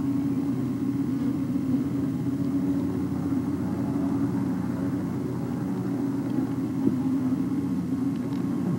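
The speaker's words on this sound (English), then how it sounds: "Here's a helicopter." A steady low rotor-and-engine rumble drones throughout, fairly loud and unchanging, like a helicopter passing at moderate distance.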